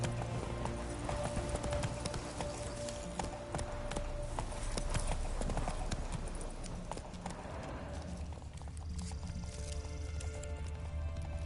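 Horse hooves clip-clopping at a steady running pace in The Witcher 3, with occasional snorts or whinnies, heard alongside game music and ambient sound throughout.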